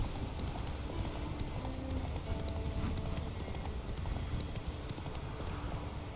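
Horse galloping in The Witcher 3, a fast steady clip-clop of hooves running continuously at close range with a dense low rumble underneath.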